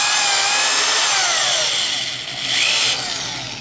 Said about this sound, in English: Now, you're finished with the reaming tool. It comes off the drill.